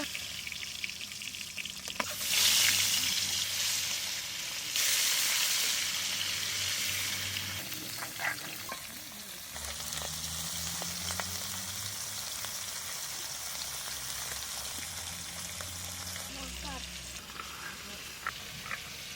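Sea tengra fish fry in a pan, a continuous crackling sizzle that swells and eases as pieces are turned, with scraping and clinking of a utensil and low background sounds.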